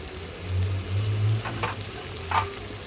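Spices fry for Bengali chicken kasha with a continuous close sizzle in hot oil, a few soft stirring scrapes rising out of the crackle, and no voices.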